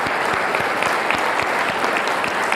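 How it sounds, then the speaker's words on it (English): Audience applause welcomes a state senator to the stage at a policy event, steady dense clapping filling the room at close range for the full length, with no talk over it. "let's give him a round of applause"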